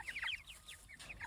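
Meat chickens on open pasture give a run of soft, close clucks and short chirpy calls, scratching about in a small flock with no talk over them.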